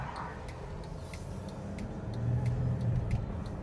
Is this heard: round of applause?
no